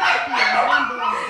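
Several dogs at an animal adoption TV programme let out yips and whimpering barks, close and fairly loud, across a steady stretch of sound; a voice may be mixed in.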